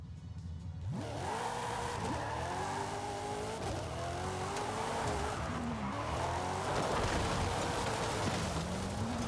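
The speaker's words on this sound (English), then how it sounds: "you can hear just how insane this little itty bitty car sounds" A small car engine in a racing video game revs hard again and again, pitch climbing and dropping with each gear, while tires squeal under a constant racing roar.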